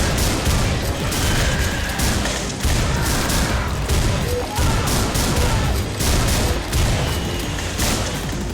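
Sustained gunfire in a pixel-art action game, dense overlapping shots and bursts rattling continuously at high volume with short dips between volleys.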